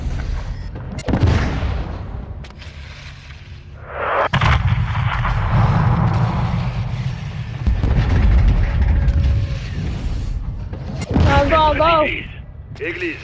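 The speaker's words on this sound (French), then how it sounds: "Shadow 1, on subit des tirs de roquettes venant d'est" Rocket and artillery fire in Call of Duty Modern Warfare 2 in a Spanish setting, with deep booms and rumbling blasts rolling through the battle while voices speak over the radio.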